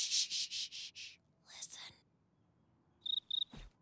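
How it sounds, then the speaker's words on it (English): Chirping of a house cricket in a cartoon living-room scene, with a rapid run of bright rhythmic pulses, then a scratchy rustle, then a few fainter chirps, with no one talking. "Acata domesticus, the house cricket."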